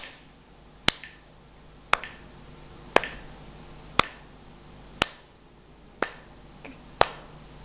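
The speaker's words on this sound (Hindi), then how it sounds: "चुटकी भी बजानी है" Crisp single finger snaps land at a steady pace of about one per second, seven or eight in a row, each sharp and close with a short ring, over a faint room background during a children's music lesson on beat and rhythm.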